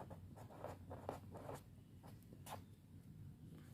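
A pen writes on paper in short scratchy strokes, quiet and close, with a quick burst of marks at first and then a few sparser strokes over a faint low background hum.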